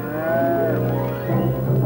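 Cattle on a working ranch give a loud, close moo that bends downward, followed by lower lowing from the herd, heard alone without speech.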